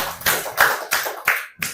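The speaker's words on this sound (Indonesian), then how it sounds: "Beri tepuk tangan untuk Brian." A short burst of applause from a small group of students in a classroom, several claps in uneven bursts lasting under two seconds, close by with no talking.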